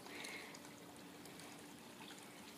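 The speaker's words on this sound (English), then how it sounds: "Oh, how the water soothes the senses." Water trickles softly in a summer garden, a faint continuous dribbling and splashing heard close by, with nobody talking.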